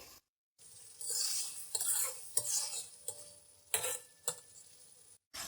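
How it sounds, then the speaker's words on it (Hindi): Cumin seeds going into a sizzling green chicken karahi gravy in a pan, giving a steady close fry hiss broken by a few sharp stirring clinks and taps, with no voices. "अब हम इसमें आधा टीस्पून जीरा ऐड करेंगे।"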